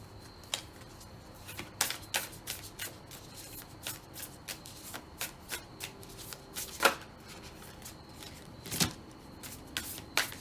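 Sticky oracle cards are shuffled by hand, giving a steady run of close, crisp riffling slaps and flutters with a few louder snaps, with no talking over them.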